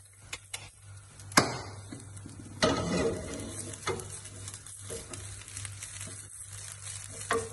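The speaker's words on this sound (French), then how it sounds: "on va juste les faire sauter un petit peu dans le beurre" Eggs Florentine ingredients sautéing in butter in a pan, a soft continuous sizzle with intermittent scraping and stirring clatter, a few sharp utensil knocks, heard close with no talk.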